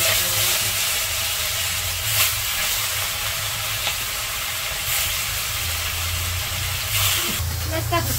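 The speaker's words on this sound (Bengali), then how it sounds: "কড়াইয়ে তেল দিয়ে দিলাম" Fish coated in chili powder and salt fries in oil in a kadai wok, a continuous loud sizzle and hiss with bursts of crackle, heard up close.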